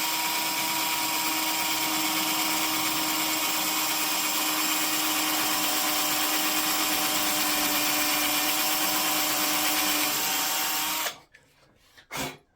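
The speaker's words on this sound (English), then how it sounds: "we're going to go right down into the center, and we're going to start drilling." A power drill bores into an electric guitar body, whirring steadily and loudly for about eleven seconds, then cuts off abruptly, followed by a couple of brief quieter bursts.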